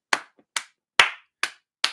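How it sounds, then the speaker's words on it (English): Five sharp, evenly spaced claps ring out alone against silence, each a crisp, close smack fading quickly, with a faint tap between the first two. "It is a collective clap."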